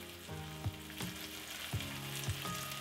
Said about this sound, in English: You want to sear these on each side for about 2 to 3 minutes until they are nicely browned on all sides.